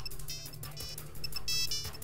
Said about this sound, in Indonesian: telepon saya berbunyi